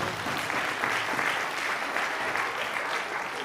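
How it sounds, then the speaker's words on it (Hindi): An audience claps loudly and steadily at a Christmas celebration, a dense, continuous wash of applause from many hands, held at an even level throughout. "हम सब लोग एक साथ मिलकर जोरदार ताली बजाएं।"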